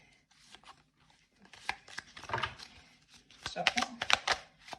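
Tarot cards are shuffled close by in bursts of soft riffling and slapping, with quiet gaps between the bursts.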